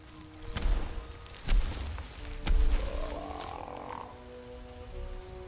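A toad croaks in the video game Moss, a few loud, throaty calls over a soft ambient backdrop with light rain-like texture, with no talking.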